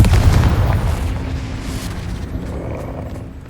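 A Confringo fire spell explodes in the Hogwarts Legacy video game, one loud boom opening the moment and then rumbling away into a fading tail.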